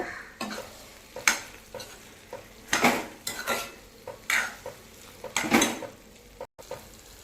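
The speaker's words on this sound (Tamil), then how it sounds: "லைட்டாக இப்படி மசிச்சு விடுங்க போதும்" A spoon mashing and stirring plantain masala in a pan, with repeated scraping, clinking strokes against the metal at a steady rhythm, close and clear with no talk.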